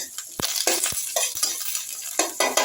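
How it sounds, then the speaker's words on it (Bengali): Mustard seeds and fresh curry leaves fry in hot oil as a tempering, a bright sizzle marked by sharp pops and the scrape and clink of a stirring utensil against the pan. "দিয়ে দিচ্ছি একটু কারি পাতা। ফোড়নটা একটু ভেজে নিচ্ছি।"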